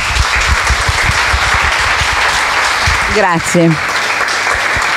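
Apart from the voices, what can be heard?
audience applause after a lecture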